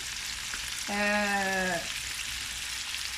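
Chicken wings deep-frying in hot oil, KFC-style, make a constant close hiss and crackle, with a short humming tonal sound rising briefly over the sizzle midway.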